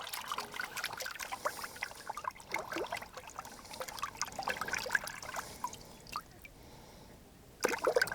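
Water trickles and pours over a Cyelee Bull budget RMR-style open red dot sight in a close, irregular splashing stream that drops off briefly near the end, with no voices.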